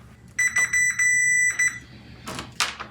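Continuity tester beeping while checking a fuse in a 1971 Kenwood receiver: a few sharp, sustained electronic tones in quick succession, close and clear, followed by brief clicks and handling noise.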